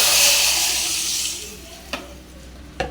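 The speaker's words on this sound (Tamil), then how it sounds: "குழம்பு எடுத்து ஊற்றிட்டோம்." Fish curry gravy poured into a cooking pot, a broad wet hiss that sizzles loudly at first and fades over a couple of seconds, followed by two short sharp clinks of a utensil against the pot.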